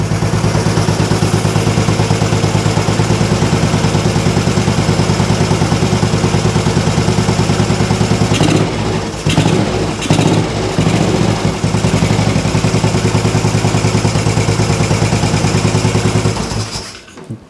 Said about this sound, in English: The engine actually sounds really quiet.